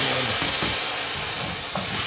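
Water poured into a hot steam pan in a bread oven during sourdough rye baking hisses loudly and continuously with crackling spatter, filling the short moment without any talk.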